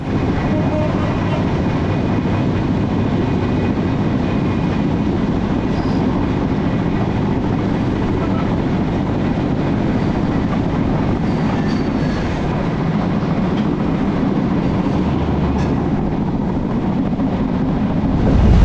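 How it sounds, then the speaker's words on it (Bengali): The Banalata Express, running from Rajshahi to Dhaka on an Eid special service, rumbles steadily with a dense roar of wheels on rails heard from on board, while crossing the Panchagarh Express; no voices. "ক্রসিং হচ্ছে বাংলাদেশের সর্ব উত্তরের রেল পঞ্চগড় এক্সপ্রেসের সাথে"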